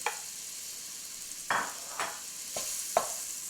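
Onions sizzling in a frying vindaloo spice mixture for lamb vindaloo, a steady soft crackle with several brief louder surges as they are stirred, close and alone.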